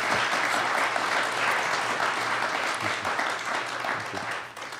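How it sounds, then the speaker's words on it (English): A large audience at a San Antonio Chamber of Commerce mayoral forum applauds the candidates, with loud, dense, continuous clapping that tapers slightly near the end. "they deserve a round of applause"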